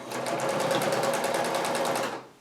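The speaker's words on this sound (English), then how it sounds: "It's sewing again, and I can finally resume my wonderful North Star rug project." A Brother sewing machine stitches a rug made from old clothes, running in a fast, even stitching rhythm close by before stopping abruptly at the end.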